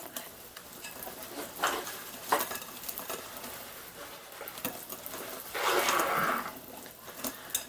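Pancake batter being stirred in a bowl, heard as irregular scraping and sloshing strokes with soft utensil knocks against the bowl, one longer wet swirl near the end, close and fairly quiet.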